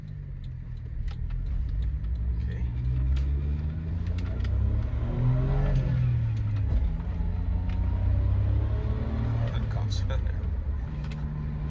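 A 1996 Suzuki Jimny K6A turbo with a five-speed manual accelerating on a test drive, its engine droning loudly inside the cabin with rising and falling revs through gear changes while people talk over it.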